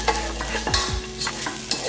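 Peanuts and grated coconut being sautéed in a pan, with rapid scraping stir strokes and a soft sizzle close up, no voices.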